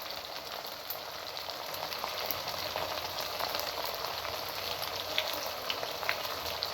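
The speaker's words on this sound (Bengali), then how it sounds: "মশলাটাকে আমি ভালো করে কষাই নেব।" Masala spice paste frying in a pan for a hilsa fish head and cucumber curry, giving a steady, even sizzle and crackle that runs unbroken throughout, with no voices.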